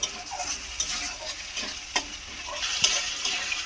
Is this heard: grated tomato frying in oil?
yes